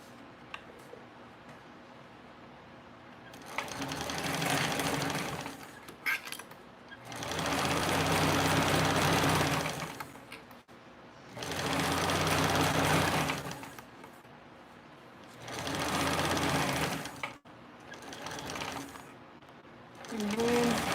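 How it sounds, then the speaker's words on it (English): A sewing machine runs a 3/8 inch seam at stitch length 4 in four or five sustained bursts of close mechanical whirring with short quiet gaps and occasional faint speech. "now we are going to stitch this together with 3/8 of an inch seam allowance"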